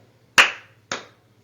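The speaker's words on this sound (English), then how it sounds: "so I want you to clap it out" Two sharp claps by children sounding out the syllables of the word river in a classroom, a louder clap followed half a second later by a softer one, with quiet in between.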